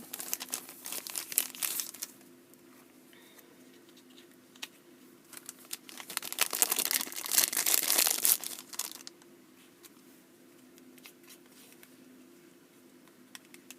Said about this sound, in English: so let's put this in the plastic bag